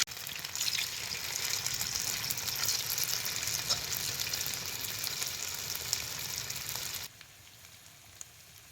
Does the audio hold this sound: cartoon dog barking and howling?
no